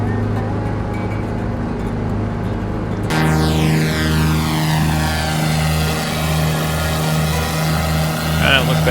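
Propeller engine of a light aircraft in Microsoft Flight Simulator 2020 over Idaho backcountry, a steady loud drone with a throbbing low hum that rises in pitch and pulses rhythmically after a few seconds, sounding continuous and close.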